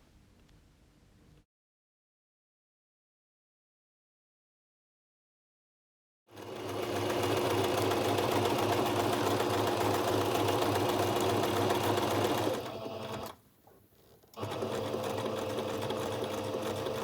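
A domestic sewing machine runs loud and steady as it stitches a cocktail napkin. Its rapid mechanical whir starts after a long silent stretch, pauses briefly, then resumes, with no talk over it.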